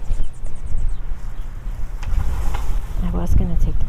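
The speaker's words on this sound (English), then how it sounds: "it's really windy" Strong wind gusts through a garden, buffeting the microphone in uneven rushes with a low rumble, and a voice briefly breaks in near the end.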